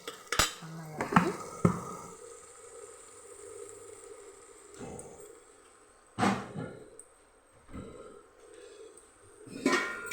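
Egg curry stirred in a metal pan with a spoon: a handful of separate clanks and scrapes at irregular intervals, with quieter gaps between them. No voices are heard.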